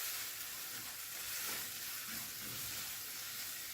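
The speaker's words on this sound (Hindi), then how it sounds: "1 से 2 मिनट इसकी भुनाई करते हैं।" Masala with salt, red chilli and turmeric roasts in a pan for mutton khichda, giving a soft, steady sizzle and hiss that stays faint and even throughout.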